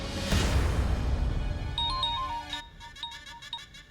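A phone ringtone chirps in short repeating electronic bursts after a loud swell of background music fades.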